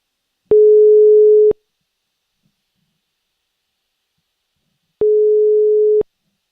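A telephone line gives two identical steady one-second tones separated by a long silence, clear and alone on a call to a station phone line.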